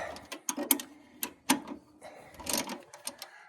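Metal clanks, ratchet clicks and scraping taps come from wrenching steering box bolts loose under a 1966 Ford travel wagon van, a run of short, close knocks and clicks at an uneven rhythm.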